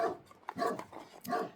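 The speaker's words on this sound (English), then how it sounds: "Sorry about my dogs, y'all." Several pet dogs barking indoors: a quick run of four or five sharp, fairly faint barks in an uneven rhythm, heard alone without speech.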